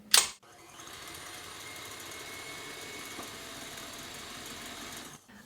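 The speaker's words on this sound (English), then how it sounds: "now we just need to beat this until it is yellow and" An electric hand mixer beats egg yolks with xylitol sweetener for a keto tres leches cake, giving a steady, fairly loud whirring motor drone that runs continuously for about five seconds after a brief louder start, with no talking.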